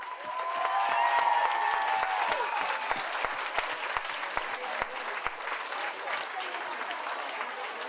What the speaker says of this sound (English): So one big final round of applause, and thanks for everyone for coming.